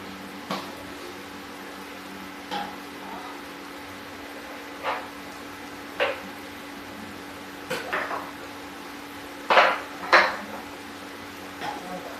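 Vegetables and peas stirred in a pan over heat, with a spoon or spatula scraping and knocking against the metal in sparse clinks over a steady low hum, no talking.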